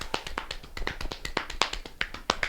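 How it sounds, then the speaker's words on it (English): Hands tapping on the inner and outer thighs in a yoga session, a close, quick series of soft slapping taps in an uneven rhythm, about a dozen strikes with no talk. "tapping inner outer thighs"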